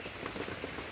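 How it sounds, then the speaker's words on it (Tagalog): Heavy rain pours steadily onto a roof or hard surface, a dense, continuous hiss of drops close by with no other sounds. "May lakas ng ulan."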